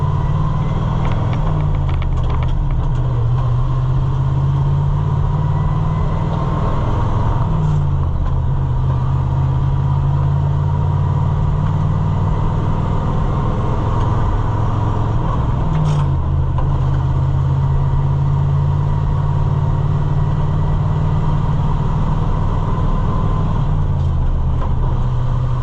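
Ford L880 tandem dump truck engine pulling steadily while driving, a loud continuous low drone that dips and climbs as it shifts gears roughly every seven to eight seconds, with rattling cab mechanisms throughout.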